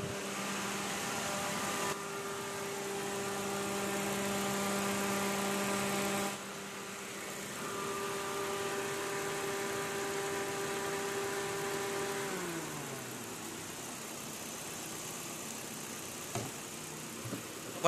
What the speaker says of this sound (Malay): Oke, dia punya radiator dah running sekarang.